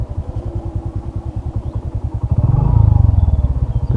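A Suzuki Hayate EP small-cc motorcycle idles up close with a rapid, even exhaust putter, then its engine rises briefly in a short rev before settling back to the steady beat.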